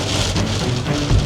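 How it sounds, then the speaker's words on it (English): Heavy tropical rain pours down during a thunderstorm, a loud dense roar of drops hammering surfaces close by, steady and unbroken throughout. "We're in the middle of a crazy thunderstorm."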